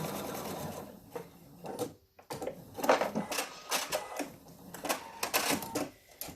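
Sewing machine running in repeated bursts as it stitches a single seam of ribbon onto a quilt block for a dementia lap pad, the motor whirring loud and close with brief pauses between runs.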